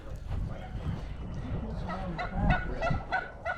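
Turkeys calling outdoors on a farm on a wintry morning, a cluster of honking, gobbling calls at fairly close range, overlapping with low background rumble and a faint voice.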